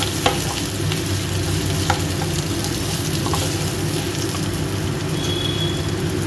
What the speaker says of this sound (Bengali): এটা নেড়ে চেড়ে ভাজা ভাজা করে নেব